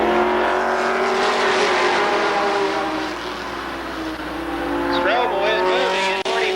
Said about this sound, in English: we see some great two-lane racing from the new third mile racetrack